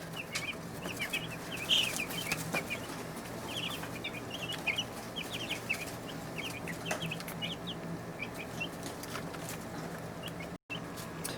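Young chicks in a brooder peep and cluck continuously, with high chirps scattered through steady low background noise and no talking.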